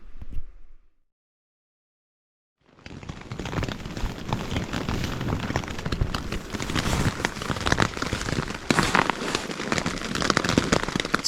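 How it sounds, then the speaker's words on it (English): Heavy rain after two hours of continuous downpour at a riverbank, a loud dense crackling patter that begins abruptly after a short silence and continues steadily. "It's been raining solid for about 2 hours now"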